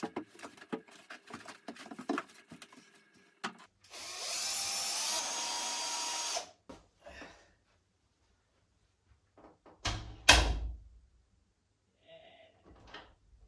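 A new wooden door, its hardware moved over from the old one, being hung with tools: scattered close knocks, taps and clunks, a steady whirring stretch of a power tool, then a louder thud and more sparse clatter.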